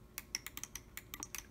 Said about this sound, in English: you hear all the clicking direction.